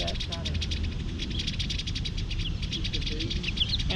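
Purple martins chatter around a backyard colony site, giving rapid, scratchy calls at moderate distance amid the steady hum of outdoor ambience, while people talk in the background.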